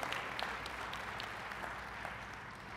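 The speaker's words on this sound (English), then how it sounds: "Clap for yourselves." Students at an academic excellence awards ceremony clap for themselves, a steady, fairly faint wash of many hands heard from a distance, continuous throughout without speech.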